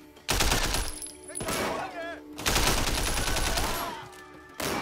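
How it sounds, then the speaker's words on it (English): Rapid bursts of gunfire in the action game Sleeping Dogs as a player shoots at a locker, loud sustained volleys broken by short pauses. "I'm shooting the fucking locker like a dumbass."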